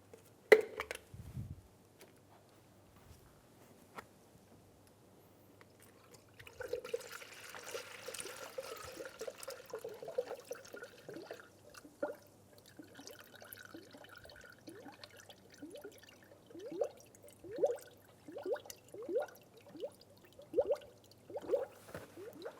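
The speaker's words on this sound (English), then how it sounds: "Pour the coolant." Coolant pours and trickles steadily into a funnel on the radiator of a 2010-2015 Lexus RX350, followed by a series of repeated gurgling glugs as it drains down.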